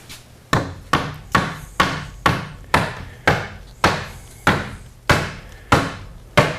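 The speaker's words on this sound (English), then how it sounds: "How about use that hammer and tap it down over there?" Hammer tapping down the wooden seat of an Adirondack chair swing: about thirteen sharp, evenly spaced knocks at a steady rhythm, close and fairly loud, with no talking.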